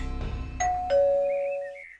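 A two-tone ding-dong doorbell chime rings once, clear and close, with the second tone lingering as it fades out.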